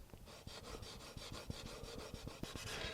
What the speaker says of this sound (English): listen to what they sound like when you rub them